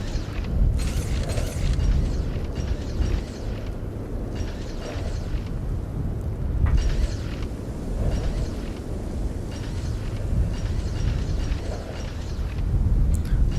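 Grenade explosions in the shooter game S.T.A.L.K.E.R. Anomaly, a string of heavy booming blasts at irregular intervals, each with a low rumbling tail, loud and close.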